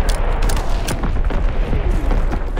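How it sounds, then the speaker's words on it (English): Enemy artillery explosions in Call of Duty WWII, Demolition mode: a dense, continuous barrage of booms and sharp blasts close by, loud and rumbling throughout with no pause. "Incoming enemy artillery!"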